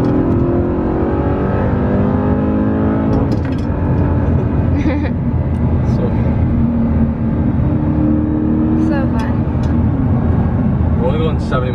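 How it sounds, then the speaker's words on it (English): A loud car engine revs and accelerates close by during a road trip in Southern California, a continuous roaring drone with rising and falling pitch, while people chatter over it. "A loud car."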